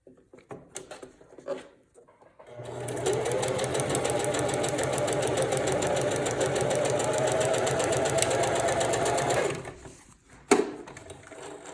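A sewing machine stitches down swim elastic in one continuous fast run of about seven seconds, a buzzing, rattling drone close by, framed by quiet handling clicks and a sharp knock near the end.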